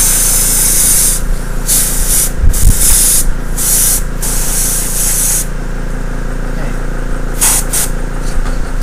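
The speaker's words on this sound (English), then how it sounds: "It really doesn't take very long to get a really good color on these things with an airbrush." An airbrush fed by a compressor from a budget Harbor Freight kit lays down base coat paint with a loud, steady hiss, cutting in and out in short bursts as the trigger is pressed and released, over a constant low compressor hum.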